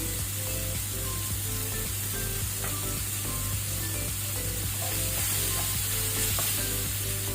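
Tomatoes fry in a pan with a steady sizzle while a utensil stirs and scrapes through them in frequent soft strokes, the sound close and continuous with no talk.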